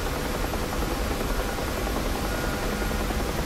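A Bell UH-1H Huey helicopter flies in the DCS simulator over the Mariana Islands near Tinian, its rotor chop and engine drone holding loud and steady throughout.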